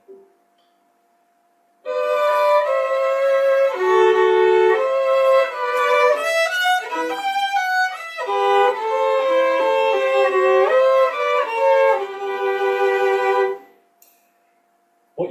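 Nine double stops played on a bowed string instrument, a clear sustained two-voice passage that moves through shifting pitches after a brief silence and then fades out, heard alone without talking.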